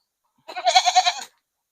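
A single close goat bleat, a short wavering cry of under a second, heard alone against silence.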